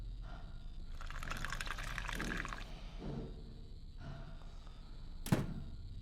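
Liquid splashes out of a bucket in the video game The Cat Lady in a short gushing pour, then softer trickles and drips, and a sharp thunk closes the sequence near the end. No one speaks.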